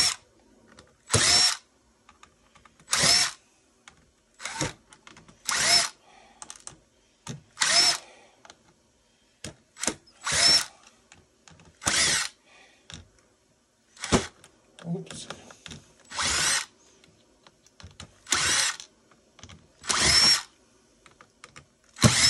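A power drill backs screws out of an e-waste circuit board in about a dozen short, separate whirring bursts spaced by quiet gaps, close and fairly loud.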